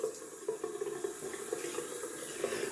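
Cold tap water runs steadily into a sink during a wet shave, a continuous hissing splash at moderate level with small bubbling variations and no voices.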